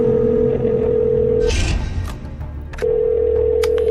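Telephone dial tone at the start of a 911 emergency call recording: a steady loud tone, broken midway by handling noise and brief clicks or dialing sounds, then the tone resumes.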